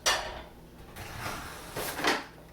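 A drawer slides open with a rattle of utensils inside, followed by a few clinks and a soft thud, close by and without speech.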